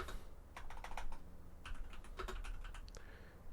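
Quiet typing on a computer keyboard: a quick run of light key clicks, a short pause, then another burst of taps over a low steady background hum, with no talking.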